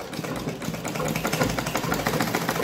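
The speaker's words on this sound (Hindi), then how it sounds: "ये पलटने के बाद अब सिलाई करेंगे।" A tailor's sewing machine stitches a six-panel petticoat, giving a continuous dense mechanical whir with a rapid rhythmic needle chatter throughout, close and fairly loud.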